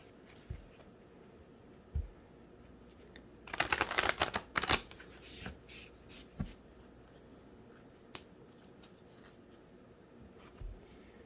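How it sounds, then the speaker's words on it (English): A deck of oracle cards is shuffled in a quiet room, with a dense flurry of papery riffling and flapping in the middle and scattered single card taps and handling sounds before and after. "So also going to shuffle these up."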